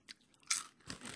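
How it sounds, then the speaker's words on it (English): A single crisp crunch as teeth bite the head off a hollow, crunchy jumping insect, close and brief, with a softer chewing crackle right after. "I'm going to bite this one's head off. So crunchy."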